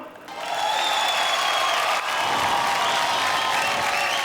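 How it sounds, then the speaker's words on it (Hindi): Loud, sustained applause from an audience at a Bhojpuri film award show, rising quickly and holding steady for several seconds. "एक जोरदार तालियां"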